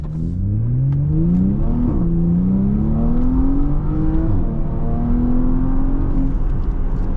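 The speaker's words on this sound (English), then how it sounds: "when at a red light and I hit my foot and I hit that gas, this thing just takes off like a jet" A 2024 Porsche Panamera 4S with all-wheel drive accelerating hard from a stop, its engine note climbing loudly through several rising sweeps with brief dips at the gear changes, heard close from inside the car.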